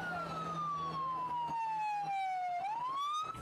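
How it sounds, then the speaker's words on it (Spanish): Police sirens wail continuously outside a prison in Guayaquil, a loud, steady electronic tone sweeping slowly downward and then rising again, with faint road and crowd noise underneath. "el sonido de las sirenas policiales se volvió a tomar los exteriores del centro de privación de libertad en Guayaquil"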